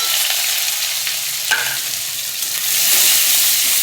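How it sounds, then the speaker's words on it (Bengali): Chopped onions hit hot oil already sputtering with bay leaves and cinnamon for a soybean and potato curry, giving a steady close sizzle with a brief clink partway through and a fuller hiss toward the end. "ফোড়নটা লাল হয়ে গেছে, এবার দিয়ে দিচ্ছি কেটে রাখা পেঁয়াজ"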